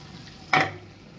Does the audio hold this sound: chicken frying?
yes